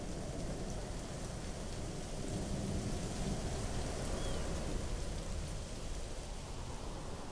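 Steady summer rain over a desert salt pan, a dense, even hiss of drops falling continuously, with no voices and a faint rumble beneath.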